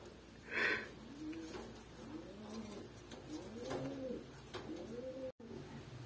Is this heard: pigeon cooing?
yes